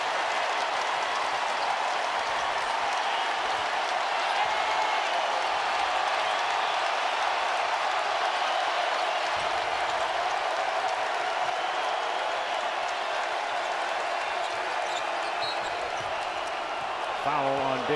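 A loud basketball arena crowd at a Kentucky vs LSU college game roars and cheers continuously, a dense wall of noise with a commentator talking over it.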